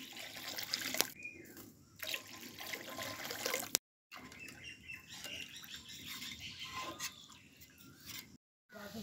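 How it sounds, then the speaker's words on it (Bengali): Water is poured into a pan for a fish curry with mustard paste. It makes a soft, uneven splashing and trickling in short stretches, fairly faint, broken by brief silent gaps. "ঝোলের জন্য অল্প করে জল দিচ্ছি।"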